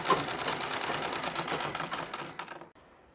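A sewing machine runs steadily, stitching a strip of fabric for a nine-yard nauvari saree. The rapid, even whirr holds for nearly three seconds, then cuts off abruptly into quiet.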